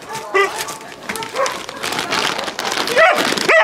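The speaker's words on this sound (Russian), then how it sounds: "Кто тут так лает?" A dog at an animal shelter barks and yips in short bursts, close and loud, while a person talks over it and rain-like noise hisses in the background.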